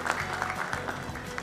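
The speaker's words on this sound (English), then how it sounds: "Please give him a huge round of applause." Audience applause at a World Broker's Day real estate event greets a speaker taking the stage, a steady, moderately loud burst of many hands clapping with no talk over it.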